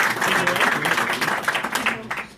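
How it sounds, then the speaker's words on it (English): Audience applause for a fitness transformation participant, steady dense clapping with some crowd noise and possible voices mixed in, fairly loud throughout and tapering slightly at the end. "I think that she deserves another round of applause for all the effort."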